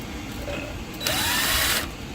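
A power drill runs briefly while tightening a fastener on a Ford F-150 EcoBoost during an oil pressure switch replacement, a short close whir of under a second against a background hum.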